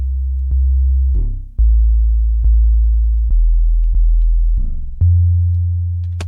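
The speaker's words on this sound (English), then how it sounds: "So weirder 808s are going to be a little less practical" Deep, sustained 808 sub-bass notes hit in a slow sequence, each with a short gritty, distorted attack and a long droning tail, playing alone.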